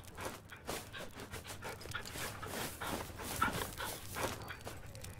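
A dog in the video game The Red Lantern pants and whimpers in quick, breathy bursts, close and fairly soft, with no clear loud barks.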